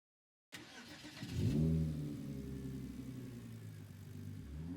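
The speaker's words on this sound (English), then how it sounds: "This is quite a good Group 4 car, to be fair." A Group 4 race car engine in Gran Turismo Sport starts up, revs with a rising, swelling tone, then settles into a steady mid-pitched drone, close and alone.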